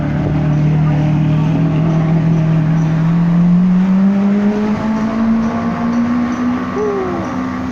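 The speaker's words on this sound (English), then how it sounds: "Wah, ada Ferrari ya." A Ferrari sports car engine drones loudly and steadily nearby, its pitch climbing slowly as it revs, with other traffic noise mixed in around it.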